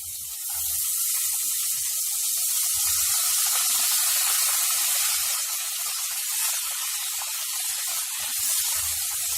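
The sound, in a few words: finely chopped onions frying in a pan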